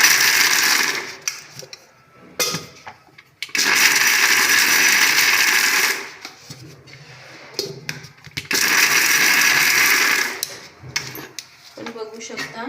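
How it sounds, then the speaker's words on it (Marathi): A kitchen mixer grinder coarsely grinding ingredients in three loud, steady whirring bursts separated by pauses filled with clattering jar and utensil sounds. "ते पण आपण आता पिसून घेणार आहोत."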